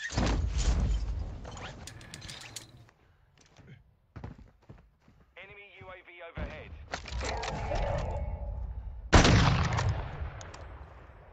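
Gunfire in a shooting video game sounds in loud bursts and cracks separated by quieter gaps, with mechanical clicks and a rhythmic warbling tone midway, and a voice talking over parts of it.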